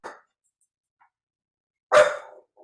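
A dog gives a short bark, then a single louder, sharper bark about two seconds later, each alone against near silence, followed by a faint trailing yip.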